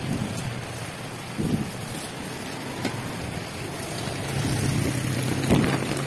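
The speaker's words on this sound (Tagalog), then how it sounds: "Medyo malakas ang ulan." Heavy rain pours outdoors as a steady, loud hiss with low rumbling underneath that swells slightly toward the end, with no voices.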